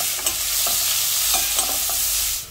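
Onions fry in mustard oil with asafoetida, green chillies, cumin and curry leaves, a close, loud, even sizzle with scattered stirring clicks and crackles, no one speaking.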